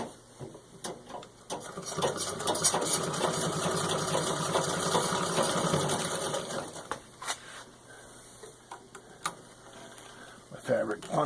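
A serviced 1923 Singer 66-4 red eye treadle sewing machine stitching through six layers of denim, a steady mechanical whir and rapid needle clatter running for several seconds, then slowing into scattered clicks and knocks close by.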